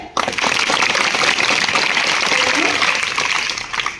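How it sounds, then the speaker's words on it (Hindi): Primary school students clapping together to welcome a visiting army colonel: a loud, close burst of many hands, dense and steady for about four seconds before it stops. "सर का स्वागत करेंगे तालियां बजा के।"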